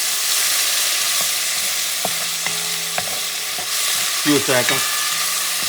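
Onions and peppers for a Puerto Rican sofrito sizzle steadily in a hot pan while being stirred, with scattered scraping clicks of the utensil and a brief spoken remark over the frying.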